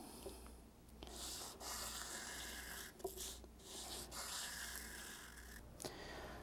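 A clarinet mouthpiece is hand-sanded with abrasive in quiet, close rubbing strokes that rise and fall, separated by short pauses, with soft faint scraping and no voices.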